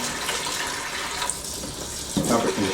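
A hot water tap runs into a basin, producing a steady rushing hiss of flowing water that grows into a heavier, splashing gush near the end.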